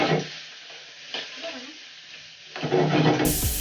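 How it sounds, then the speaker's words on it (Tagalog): Shrimp frying in a pan as a topping for pancit bihon, with soft sizzling and intermittent stirring scrapes, swelling louder near the end. "Luto kami ng hipon, guys. Pang-toppings ng pansit"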